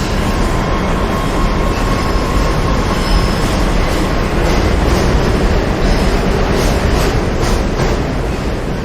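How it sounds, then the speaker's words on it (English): A New York subway 6 train bound for Parkchester in the Bronx rumbles loudly and continuously, with steady rail roar, wheel clatter and faint squeals throughout, heard from inside the moving car. "This is a Parkchester-bound 6 train."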